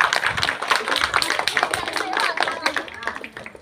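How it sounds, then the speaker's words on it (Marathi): An audience of women applauds at an April 14 Ambedkar Jayanti celebration, a dense, steady burst of clapping lasting several seconds at close range. "पुन्हा एकदा जोरदार टाळ्या होऊन जाऊ दे"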